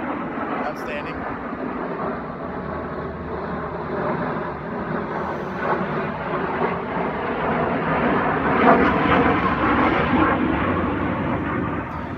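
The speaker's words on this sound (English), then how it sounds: "Great timing for an airplane." An airplane passes overhead in an outdoor setting, a broad steady engine roar that swells slightly toward the end, with people talking over it.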